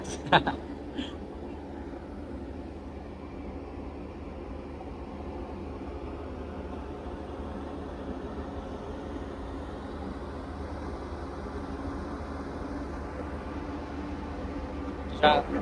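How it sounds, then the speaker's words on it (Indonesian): Steady low engine and exhaust rumble from a truck or bus on a Jakarta-Medan road trip, heard from up top with constant broadband road noise and a couple of brief knocks near the start and end. "Ini suara mesin ini,"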